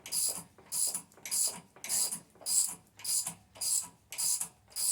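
Hand ratchet loosening the harmonic balancer bolt on a 5.3 LS engine, a close rapid clicking of the pawl in repeated strokes about every half second, with no talk.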